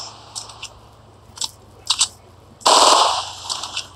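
Storm tracker tank weapon in the mobile game Tank Stars, a few short sharp clicks and bursts followed by a loud sustained blast that fades over a second, close and without talk.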